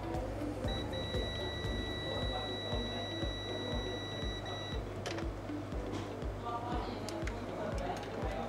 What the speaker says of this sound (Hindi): ये कैपेसिटर आपका शॉर्ट है, ये जो बीप शो कर रहा है।